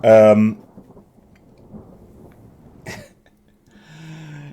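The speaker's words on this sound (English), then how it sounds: "Oh, it's a storm." Thunder rolls through a stormy sea battle in a British naval campaign strategy game against French cruisers: a low, steady rumble with a brief crack near the end, framed by short bursts of tonal game sound at the start and finish.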